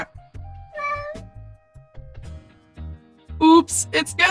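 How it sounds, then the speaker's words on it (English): A cat gives a short meow early on, then after a quiet stretch lets out several louder, higher meows close to the listener, one after another. "Cat."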